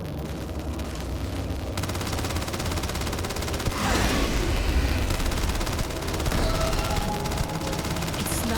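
Rapid automatic gunfire from weapons in the space game Starfield, a dense continuous rattle of shots with a heavier burst near the middle, steady and close throughout.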